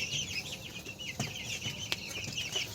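Young desi chickens about seventeen days old cluck and peep on a small poultry farm, a busy high chirping chorus with a few sharper calls, close and without talk.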